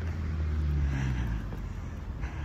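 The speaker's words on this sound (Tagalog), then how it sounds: "Traffic." Road traffic on a hilly street while walking to a grocery store: a low, steady engine rumble of cars passing nearby, continuous and moderately loud with no talking.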